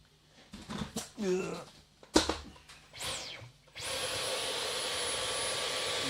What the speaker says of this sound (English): get my vacuum.